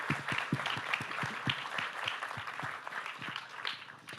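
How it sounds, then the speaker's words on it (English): A modest audience applauds, individual claps distinct and uneven, fairly close, tapering slightly toward the end. "Please join me in a round of applause for our phenomenal panelists."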